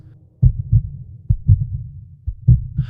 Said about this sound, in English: A whale's heartbeat is so deep and low that other whales can hear it at distance.